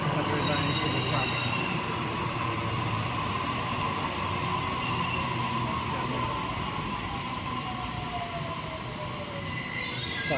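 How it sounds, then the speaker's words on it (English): A train rumbles steadily past close by on a single track, wheels squealing and rattling on the rails for the whole stretch, with a brief high squeal near the end. "we'll have to wait for our train to pass heading the other way"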